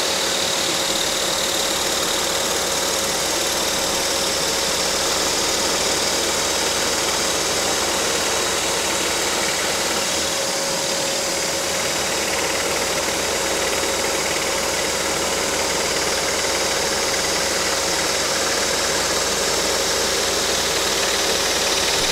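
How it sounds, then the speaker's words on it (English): A blower hums continuously in a woodworking shop during love spoon carving, a loud, steady motor drone with an even whine, close by and unbroken throughout. "That blower working for us."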